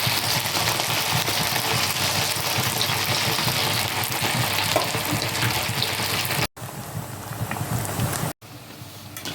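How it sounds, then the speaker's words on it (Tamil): Veg kola, vegetable balls, deep-frying in hot oil, giving a loud, steady broadband sizzle and bubbling that runs unbroken, then drops away briefly twice near the end. "இங்கே பாருங்கள், இந்த அளவுக்கு ஃப்ரை ஆகிடுச்சு."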